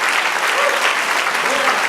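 Church congregation applauding for the Lord during a Spanish-language service, loud dense clapping filling the whole moment, with a few voices faintly underneath.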